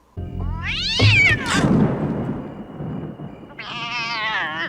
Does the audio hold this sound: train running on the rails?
no